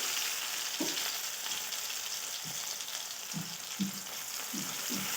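Tomatoes sizzle and fry steadily in a pan while cooking a Maharashtrian broad bean (val shenga) vegetable dish, with a dense continuous hiss and occasional soft stirring knocks, close and fairly loud.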